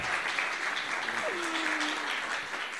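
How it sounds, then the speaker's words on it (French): Short burst of audience applause for a translator at a documentary screening, a continuous wash of clapping with a faint tone gliding through the middle. "On peut l'applaudir aussi."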